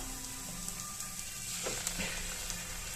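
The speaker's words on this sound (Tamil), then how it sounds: "வெங்காயம் இந்த அளவுக்கு வதங்கியதும் இப்போ நம்ம அரைச்சி வச்சிருக்க கருப்பு கவுனி அரிசியை சேர்த்துக்கலாம்" Onion sautéing in a pan as ground black kavuni rice goes in, giving a steady soft sizzle and frying hiss with a few light stirring taps, close and moderate.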